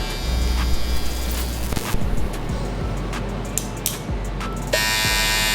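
A steady electric buzzing of a barber's hair trimmer during a line-up runs throughout, close and continuous, with a brighter, louder whine toward the end.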